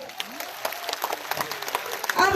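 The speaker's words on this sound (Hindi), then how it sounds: "एक बार दोनों हाथ ऊपर उठाकर जरा जोरदार तालियां बजाइए" Audience at a poetry recital in the Bada Akhara grounds of Hazaribagh applauding with raised hands, dense sustained clapping that swells toward the end, with a voice speaking over it.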